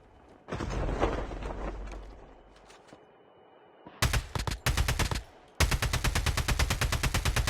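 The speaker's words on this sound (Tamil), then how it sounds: "டேய் ஸ்னைப்பர் எவனோ அடிக்கிறான்டா டேய்" Gunfire in a Call of Duty battle royale team match: a long rumbling burst, then short volleys and a dense run of rapid automatic shots, loud and close, with no talking.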